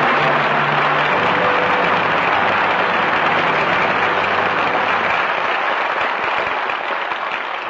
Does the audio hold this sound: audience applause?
yes